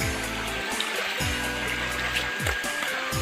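Steady broadband rush of a waterfall and stream flowing over rocks on a forest trail, continuous and loud with no pauses, with a few faint low thumps beneath.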